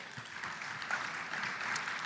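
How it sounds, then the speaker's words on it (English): An audience at a business forum and exhibition applauds in a soft, distant, steady patter of clapping that stays faint and even throughout. "Let's put another round of applause for"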